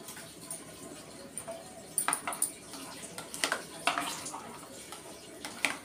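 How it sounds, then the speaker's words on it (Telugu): Curd rice being mixed by hand or spoon in a metal vessel, giving scattered light clinks and scrapes of utensil against the pot, close and fairly quiet, with no one talking. "ఇలా మొత్తం కలిపేసుకోవాలి, కలిసేటట్టు ఇలా కలిపేసుకోవాలి."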